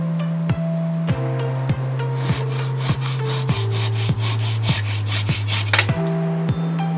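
A wooden stick having its end sawn off for a homemade wand: steady back-and-forth saw strokes, loud and close, in an even rhythm of about two strokes per second with rasping wood friction and no talk.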